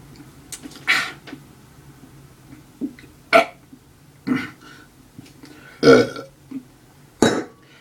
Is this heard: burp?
yes